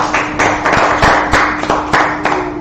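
A crowd at a street gathering in Minneapolis claps together in steady, loud, rhythmic beats, close and punchy, with no voices over it.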